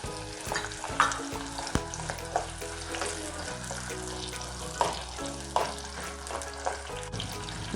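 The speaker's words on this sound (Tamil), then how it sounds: "பூண்டும் வெங்காயமும் ஓரளவு வதங்கிடுச்சு" Whole shallots and garlic cloves sizzle steadily in hot oil for a vathal kulambu, with a spoon stirring and scraping the pan now and then, close and continuous.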